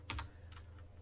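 A few quick keystrokes on a computer keyboard while entering an fdisk command, soft close clicks in a short burst.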